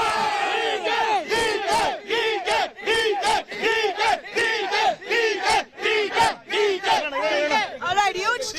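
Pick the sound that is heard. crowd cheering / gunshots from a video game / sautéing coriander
crowd cheering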